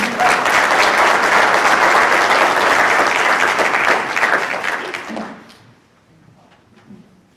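Audience applause for a panel fills the room loudly and steadily for about five seconds, then fades to scattered claps and quiet room noise.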